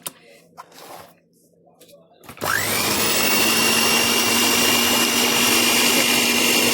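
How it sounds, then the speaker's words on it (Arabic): An electric hand mixer starts up and beats ghee and sugar with a loud, steady motorized whir. Before it comes a stretch of quiet clatter and faint talking, then the mixer runs continuously to the end. "هنا خلاص حطيت السمنه على السكر، وهضربهم كويس قوي لغايه لما يبقى الخليط لونه ابيض"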